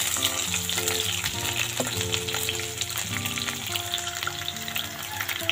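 Chopped onion and bay leaf fry in mustard oil in a continuous, busy sizzle with crackling pops, close and steady throughout.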